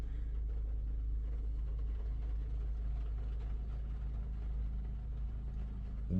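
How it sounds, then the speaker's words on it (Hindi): A Maruti Suzuki Brezza engine idles smoothly after an overhaul, a low, even rumble that holds steady throughout without knocks or surges. "गाड़ी में बैठ के नहीं बता सकते कि गाड़ी स्टार्ट है, इतनी स्मूथ हो गई"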